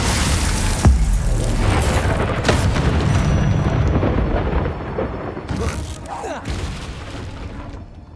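Incendio and Glacius spells cast in Hogwarts Legacy burst out as loud, punchy booms and blasts, a few sharp hits standing out from a dense, roaring wash of combat noise.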